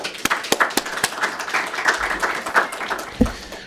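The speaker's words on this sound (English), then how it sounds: "encourage you to give him a round of applause for that" Applause from the audience at a panel on dark money, media and the 2012 campaign: sharp individual claps at the start swell into steady clapping, then thin out toward the end.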